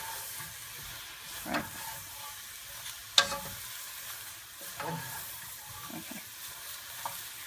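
Chicken in green curry sauce stirred around a pan, a steady frying sizzle broken by scraping spoon strokes, one sharp clack near the middle; a voice speaks briefly.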